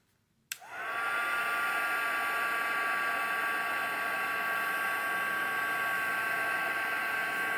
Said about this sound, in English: we will heat emboss this